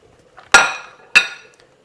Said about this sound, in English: Going to add in the mussels,